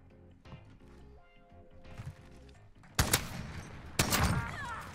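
Video game gunfire in Call of Duty, a shotgun carried by a player with a riot shield, booms in two loud, close blasts about a second apart, following quieter game sounds and faint voices.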